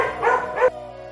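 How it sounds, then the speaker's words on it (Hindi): A village dog gives two quick, loud barks close by, followed by brief quiet. "कालू ने भौंक भौंक कर पूरे झुंड को गांव से भगा दिया"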